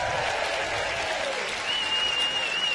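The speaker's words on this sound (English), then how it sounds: "warm round of applause for Andy" Crowd at the Surbiton Trophy tennis tournament applauds Andy Murray, a full, steady roar of clapping from a sizeable outdoor audience, continuous and fairly loud, with a faint tonal whistle passing through.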